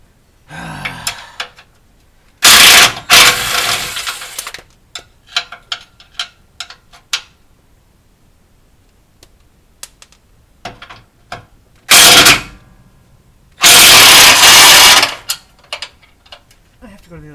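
A heavy power impact gun works on a 2005 Dodge HEMI Durango, firing in several loud bursts of a second or two, separated by clicks, clatter and quieter handling noises nearby.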